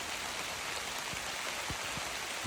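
Steady rain falls on a lake around a kayak, a dense continuous hiss with a few heavier drops spattering close by, heard alone without any voices.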